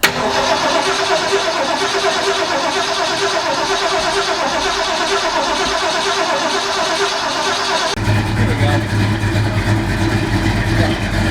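A carbureted BMW E30 engine running loud and close, a sustained rough roar that deepens into a heavier low rumble partway through as the throttle opens.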